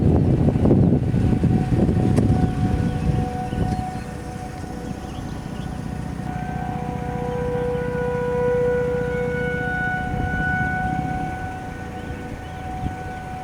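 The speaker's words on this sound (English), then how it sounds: "The sirens are on for the severe thunderstorm warning that's been issued" Outdoor civil defense warning sirens wailing for a severe thunderstorm warning just east of Mount Horeb, Wisconsin, a loud droning tone that rises and falls over a rumbling wind background, continuous throughout with no talking.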